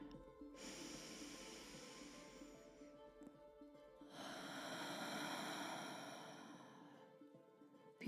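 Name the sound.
deep breathing exercise, inhaling and exhaling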